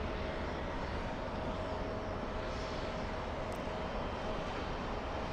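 An airliner painted in Tiana's Bayou Adventure livery flies past en route to Portland, a faint, distant, steady engine rumble with a thin high whine running through it, no voices heard.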